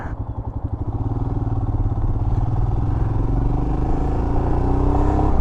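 A 2021 Royal Enfield Himalayan low-displacement adventure motorcycle engine thumps close by, its pulses starting slow and distinct, then quickening into a steady, throbbing rumble as the revs climb.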